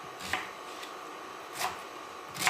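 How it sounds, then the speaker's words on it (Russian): Three sharp knife chops on a cutting board as an onion is finely chopped, spaced apart, fairly close with a quiet room hum between them. "Лук режем мелко"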